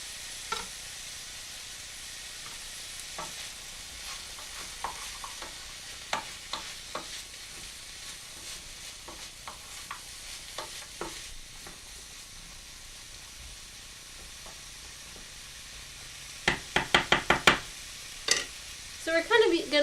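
Vegetables for lentil burgers fry in a pan with a faint, steady sizzle, broken by scattered clicks of a utensil and a quick burst of scraping taps near the end.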